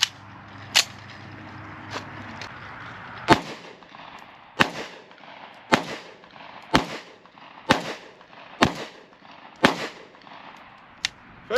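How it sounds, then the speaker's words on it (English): A Rock Island 22TCM pistol fires about ten sharp, loud shots at a steady, slightly uneven pace, each crack clear and close with brief ringing between rounds. "gonna shoot another 10 rounds"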